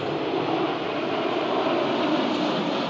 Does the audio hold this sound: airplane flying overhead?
yes